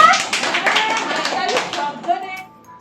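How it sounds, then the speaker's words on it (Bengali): Children clap their hands at a small gathering at home, a loud burst of dense, uneven clapping that carries on for about two seconds and then thins out to a few scattered claps, with young voices mixed in. "জোরে হাততালি দাও একটু তোরা।"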